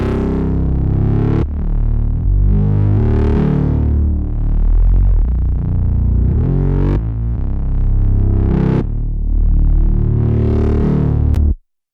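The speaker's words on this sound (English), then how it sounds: "the rest of this sound is made in the effects page, so obviously distortion is a must." Dark synth tones pushed through distortion, flanger and chorus effects, loud sustained chords with sweeping, swirling phasing that change in several blocks before cutting off abruptly.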